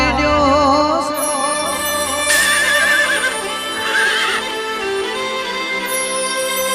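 A horse neighs in drawn-out whinnies with hooves clip-clopping, set against a musical backing in a devotional folk song.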